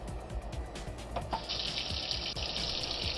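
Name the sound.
sink filling with cold tap water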